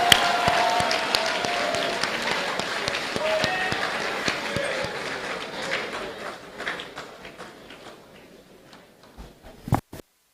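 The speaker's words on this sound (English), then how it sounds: "Shall we give a thunderous applause again to our guest?" Applause from a university congregation audience, dense clapping at first that thins and fades over the seconds, with a few sharp isolated claps near the end and some voices underneath.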